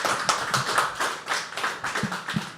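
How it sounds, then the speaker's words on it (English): An audience at a live poetry open mic claps for a performer: a short, lively burst of many hands clapping close by, uneven and overlapping, with no talking. "Can we clap again for his spirit?"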